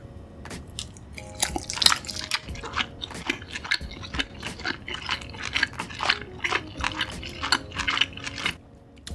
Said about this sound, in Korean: 나시고랭 떡볶이부터 먹어볼게요.